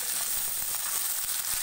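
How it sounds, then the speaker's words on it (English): Chopped small sambar onions and big onion petals hiss and sizzle in hot oil in a pan, a steady, fairly loud crackle close by with no talk. "Next, I'm going to add chopped onions."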